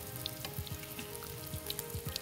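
Banana pieces fry in a hot pan, giving a soft, steady sizzle with faint crackles and the occasional scrape as they are flipped, heard fairly quietly with no talk.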